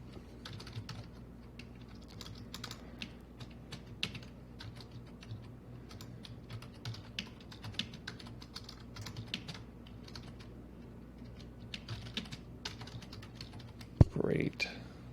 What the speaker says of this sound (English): My keyboard is extra loud today.